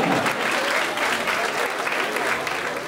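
Dense, steady applause from a crowded audience fills a cadet ball at a military university, loud and continuous throughout.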